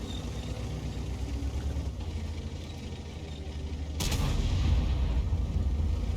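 Tank cannon fire in World of Tanks: a steady low rumble of engines and distant gunfire, then a sharp broadband boom about two-thirds through that raises the loudness and stays as heavier rumbling.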